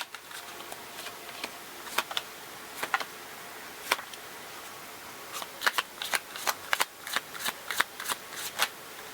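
Tarot cards being drawn and laid out: crisp, close card snaps and flicks, sparse at first and then coming in a quicker run of separate slaps over a quiet background.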